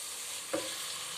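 Onions and tomatoes frying for egg bhurji hiss in a low steady sizzle, with two short bursts of stirring and scraping close by, and no voices.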